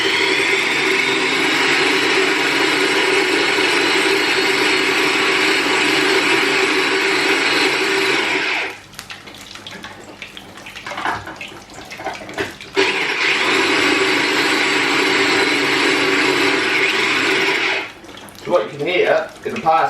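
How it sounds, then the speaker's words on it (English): Small mini blender whirring on parsley, a steady loud motor drone for several seconds, stopping briefly, then running again in a second long burst, with clattering and a voice between runs. "I'm embarrassed by my mini blender."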